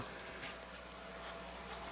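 A soft 6B graphite pencil scratches across paper in steady strokes while shading a drawing, close and quiet, with small rhythmic swells as each stroke repeats.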